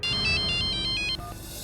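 A phone ringtone plays a repeating pattern of bright electronic chirps, followed by a couple of lower tones as it cuts off.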